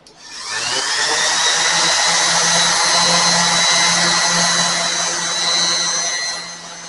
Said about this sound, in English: I'm not putting any pressure at all on my sander. The only thing I'm doing is guiding it.